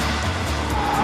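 A supercharged Honda-engined 300 bhp KTM track car drives fast, a loud, continuous broadband engine and road roar with a faint tire squeal near the end.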